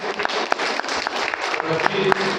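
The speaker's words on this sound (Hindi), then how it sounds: "उनका जोरदार तालियों से हम सम्मान करेंगे" Dense, sustained clapping from a crowd fills the whole stretch, loud and steady with a few sharper claps standing out.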